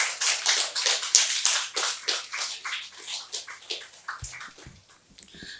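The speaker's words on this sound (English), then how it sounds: "Please give him a round of applause." An audience at a prize-giving in a lecture hall claps for a winner, a steady patter of many hands that gradually thins and softens toward the end.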